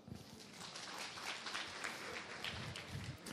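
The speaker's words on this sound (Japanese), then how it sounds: "拍手をどうぞ" Attendees at a university science café applaud a correct answer, a soft, somewhat distant patter of many hands clapping evenly for a few seconds.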